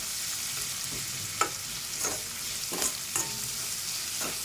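Salted onions cook in a pan for a potato rice dish, giving a soft continuous sizzle broken by several spatula scrapes and stirs at irregular intervals, with no talking.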